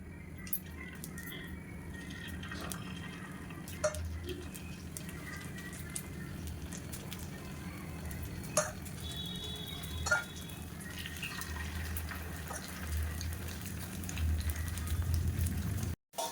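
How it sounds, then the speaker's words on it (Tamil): Batter drips and sizzles into the oiled wells of a paniyaram pan for traditional Poongar rice paniyaram, a soft continuous frying crackle with occasional small pops and clicks, close and quiet, with no talking. "இப்போ நம்ம ஒன்று ஒன்றா ஊற்ற ஆரம்பிச்சிடலாம்"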